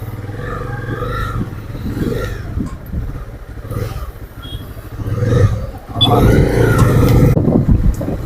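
A Honda CB 300R sports motorcycle on a test ride, its engine rumbling steadily with rising revs and road and wind noise throughout, loudest toward the end.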